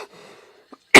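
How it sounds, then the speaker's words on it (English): A single sharp, loud cough up close, following a few faint soft sounds and brief near-silence. "you guys get to listen to me cough"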